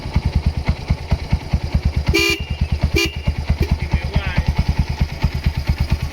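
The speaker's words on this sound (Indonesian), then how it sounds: "Klakson dulu pertama." Two short honks from the horn of a restored Kawasaki Binter Merzy KZ200 motorcycle sound over the steady, close putter of its idling engine.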